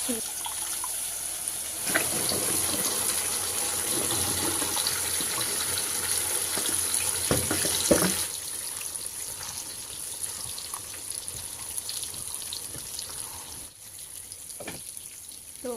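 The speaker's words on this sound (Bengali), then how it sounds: "এখন গরম পানি দিয়ে একটু" Hot water poured into a pot of spices frying in oil with ground garlic and salt, giving a steady hissing, splashing gush that swells for several seconds, then eases to a softer simmering sizzle.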